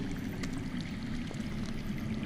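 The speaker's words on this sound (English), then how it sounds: "That's water. I hear water. From underground." Steady low rushing of running water from underground in a Game of Thrones video game, a continuous muffled stream with a faint trickling edge, heard alone.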